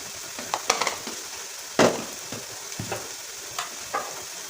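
Cumin, carom seeds and salt roasting in a pan, with a soft, steady sizzle and occasional scraping stirs and light crackles, close and fairly quiet.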